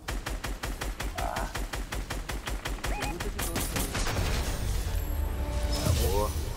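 Rapid automatic gunfire in the Fortnite video game, a fast, evenly spaced burst of shots followed by scattered impacts and game effects, with players talking over the action.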